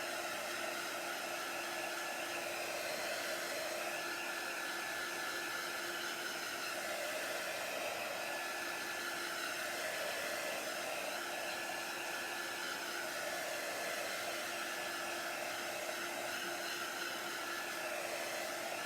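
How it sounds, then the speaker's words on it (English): A hot-air heat tool blows steadily to dry a chalk-paste sign, giving a continuous, even whooshing hiss with a faint motor whine, close and loud and uninterrupted with no talking. "I happen to like using a heat tool because it's super fast, but it is super hot, so keep it moving while you're drying."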